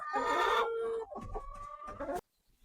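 Two laying hens cluck and squawk close by in a few loud bursts, then fall silent at the end.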